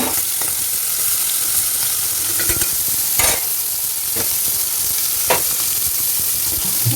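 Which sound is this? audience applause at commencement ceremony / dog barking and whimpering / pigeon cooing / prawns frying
prawns frying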